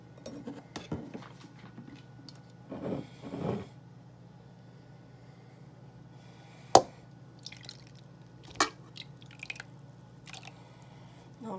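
A shell-less egg is poured into a bowl in a quiet room, with a few soft wet squishes and slops, a couple of sharp clicks against the bowl, and long near-silent gaps between.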